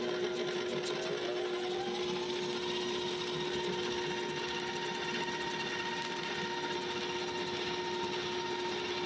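A stand mixer fitted with a silicone-edged paddle churns old-fashioned holiday cookie dough, giving a steady, even motor whine with a constant hum that runs unbroken and fairly close for the whole stretch, with no voices.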